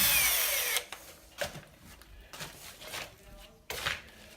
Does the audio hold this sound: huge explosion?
no